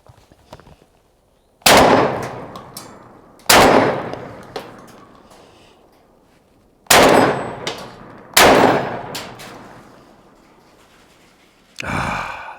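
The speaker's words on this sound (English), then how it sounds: "First shots with a new Remington V3." A new Remington V3 shotgun with a 28-inch barrel fires 3-inch magnum shells outdoors, five loud, sharp blasts spaced a second or more apart, each decaying into a ringing tail, with no voices between them.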